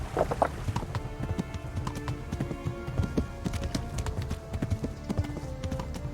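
A horse's hooves drum in a quick, steady rhythm throughout in the video game Kingdom Come: Deliverance, close and clear, with no talking.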